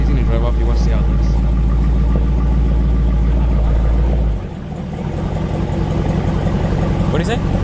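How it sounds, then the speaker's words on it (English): A Dodge Scat Pack muscle car's engine rumbles loudly at idle, then drops as the car pulls away, its deep engine note continuing close by with no talk. "He's gonna drive off."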